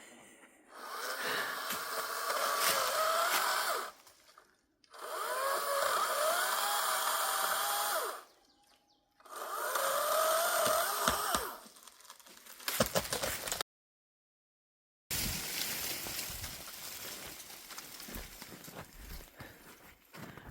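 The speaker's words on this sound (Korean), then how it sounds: "이게 톱이 안 들어간다고" Hand saw cutting through wood while laying palm-fiber mats over a muddy yard, three long rasping bursts of sawing separated by short pauses, close and loud, followed by a silent gap and then a noisier rustling stretch.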